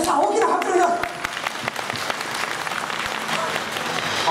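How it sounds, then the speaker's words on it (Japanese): An audience claps loudly for a volunteer called up from the crowd, the applause swelling at first and then settling into a steady, lighter patter. "皆さん大きな拍手を"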